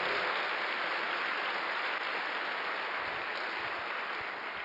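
Congregation at a Sunday church service applauding, a steady dense wash of clapping that holds evenly throughout without pause.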